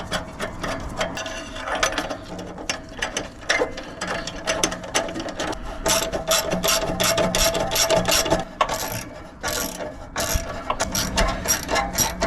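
Ratchet clicking steadily while bolts on an exhaust bracket of a 2008 Smart Fortwo are tightened, a close, rapid run of metallic pawl clicks in bursts with brief pauses.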